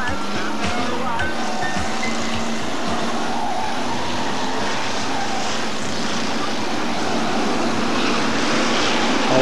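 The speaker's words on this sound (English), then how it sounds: "Cars away for heat 2." Hotstox race cars in Birmingham roar away together at the start of a heat, a dense, steady engine drone at constant loudness throughout.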